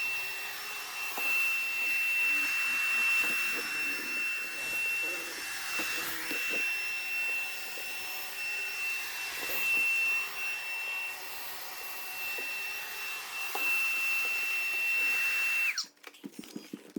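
Mova Z60 Ultra robot vacuum running with strong 28,000 Pa suction over carpet, a steady close whirring hum with a high whine, continuous for about sixteen seconds before cutting off abruptly.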